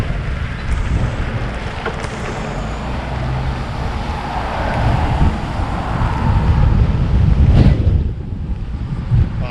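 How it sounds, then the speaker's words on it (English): Strong wind batters the microphone while cycling in Aruba, a loud, continuous roar with gusts that swell and peak sharply near the end. "it's so windy that the wind almost just stopped my bike entirely"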